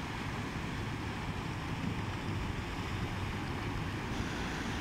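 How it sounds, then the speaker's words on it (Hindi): Fast water rushing under a long village bridge: a steady, dense roar of flowing water at constant loudness, close and continuous, with wind buffeting the microphone. "आपको नज़र आ रही होगी किस तरह पानी स्पीड से जा रहा है"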